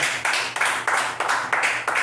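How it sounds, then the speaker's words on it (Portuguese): A church congregation applauds during a family worship service, with steady, dense clapping from many hands that surges in several waves. The clapping is loud and fills the room, and a voice can be heard faintly beneath it. "Dando um aplauso para o nosso Deus."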